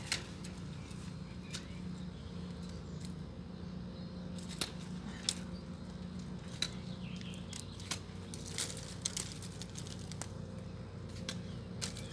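Pruning shears snip climbing rose stems in a garden, giving sharp scattered clicks and cuts at irregular intervals over a steady low outdoor hum, with no talk.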